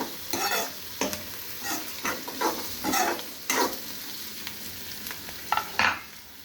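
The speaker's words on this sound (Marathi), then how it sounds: "आता हे कांदा टोमॅटो वगैरे सगळं मी तेलामध्ये भाजून घेतलेलं आहे." Onion and tomato stirred in oil in a pan with a soft sizzle underneath, punctuated by irregular scraping strokes of a spoon; close and moderately quiet, no talking.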